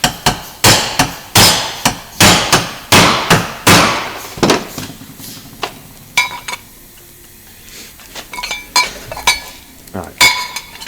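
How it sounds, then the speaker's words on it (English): A hammer strikes the metal flange on a Subaru Brat with a run of loud, close, ringing blows. Quieter scattered taps and clinks follow after a pause. "Let's get an hammer."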